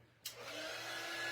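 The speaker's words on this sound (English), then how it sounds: "let me hit it with the dryer" A dryer switches on abruptly and blows steadily with a loud, continuous whoosh aimed at a cutout, holding its airflow to the end after a quiet start.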